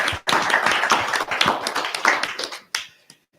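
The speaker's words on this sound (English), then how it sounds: "Give her a round of applause" Audience at a conscious leadership talk gives a round of applause, a close, dense burst of clapping lasting about three seconds before tapering into a few last claps and silence.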